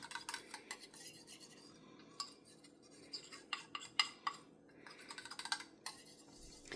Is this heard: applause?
no